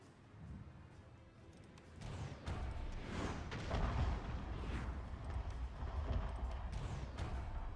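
Artillery batteries firing in a Fall of Samurai battle, a continuous rumble of heavy booms and crashes that swells after the first two seconds and stays loud, with no talk over it.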